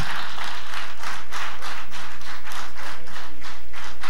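A church congregation claps hands together in a steady, even rhythm, many hands blending into a dense, loud patter that fills the room.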